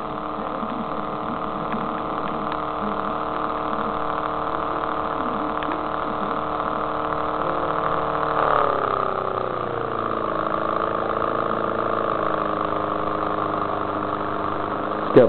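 A Bedini motor with a satellite compass spins steadily, giving a continuous close electrical hum and whine that shifts downward in pitch partway through, with no talking.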